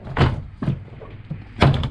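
Plastic retaining clips on the rear door panel of a Lexus CT200h pop loose in three sharp thunks, two close together and a louder one after a pause, each snapping out near and alone.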